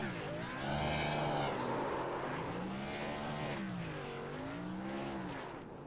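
Race cars in a NASCAR Xfinity Series video game race at the Music City 200 do post-race burnouts. Loud, continuous engines rise and fall in sweeping revs and whine steadily throughout.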